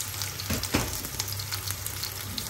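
Pork slices frying in a pan with onion for homemade yakisoba stir-fry noodles, making a continuous close sizzle with light stirring scrapes and no voices.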